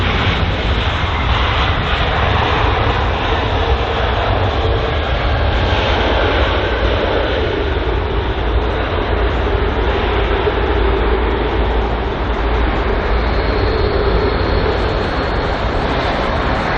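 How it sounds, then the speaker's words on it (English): An Airbus A321neo airliner approaches at Heathrow with a loud, continuous jet roar. The dense, steady rumble holds at an even level throughout, with no voices. "It's actually an A321neo. Just realised that after it just got closer to us."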